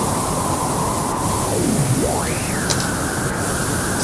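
A distortion effect in Bitwig Studio processes a noisy wet signal, a loud hiss with a tone that sweeps down, dips, then climbs and settles into a steady pitch.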